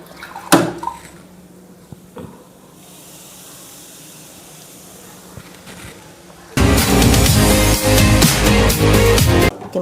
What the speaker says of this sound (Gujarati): આપણે થોડુંક પાણી અંદર એડ કરી દઈશું